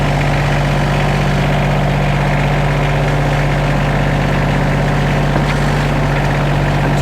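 Engine of a post driving trailer running steadily at a loud, close, even drone with a constant low hum, no clear rise in revs; no speech.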